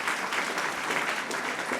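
An audience applauding high school students at the opening of a regional forum, a dense sustained wash of clapping from a large crowd, steady and even with no break.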